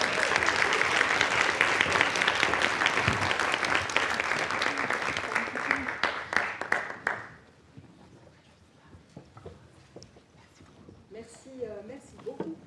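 A lecture audience at a talk on AI and gender and racial bias claps for a professor, loud and dense for about seven seconds before thinning to scattered claps, after which a voice begins speaking.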